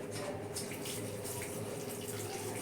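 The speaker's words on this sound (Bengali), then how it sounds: "এবার এটাকে আমি পুরো জল দিয়ে চান করিয়ে দিলাম।" Water pours steadily over a potted peacock ginger plant, a continuous close splashing rush like a running tap, with no pauses.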